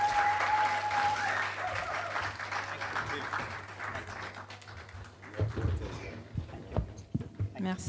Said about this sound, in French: Let's clap for the man of God and our dear sister.